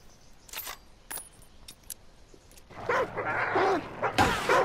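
Dogs bark in a rapid flurry near the end of a Hunt: Showdown game clip, preceded by scattered clicks and clinks against a quiet background.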